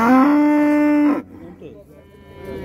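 A cow at a livestock market lets out a single loud, close moo lasting about a second, followed by quieter market background noise.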